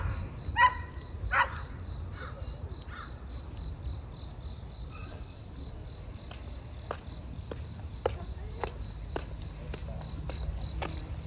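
A dog barks in a neighborhood yard, a few loud barks early then sparse distant yaps over a steady chorus of crickets.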